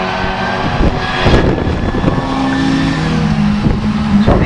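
Class 4 autograss race cars in a B final at Nottingham roar past close and loud, with engines revving and overlapping in a continuous racing din.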